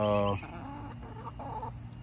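Backyard chickens being let out to roam, peck at grass and scratch for insects give a loud burst of clucking at the start, then fainter scattered clucks over a steady outdoor background.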